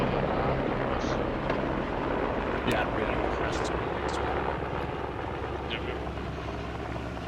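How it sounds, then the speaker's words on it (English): A helicopter flies over a battlefield in the military shooter Squad, a steady rotor and engine drone with scattered distant game noises, while a commentator talks over it. "Heli's scouting them out."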